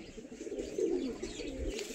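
Pigeons at a home loft coo in a low, steady murmur that swells slightly midway, with no voices over it.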